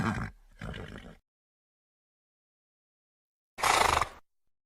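Horse whinny in a children's alphabet song, a loud, breathy neigh lasting under a second near the end, preceded by two earlier bursts of similar animal or vocal sound and then silence.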